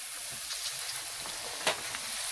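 Quinoa turmeric potato chips fry in hot oil with a faint, steady crackling sizzle and one brief sharper pop partway through.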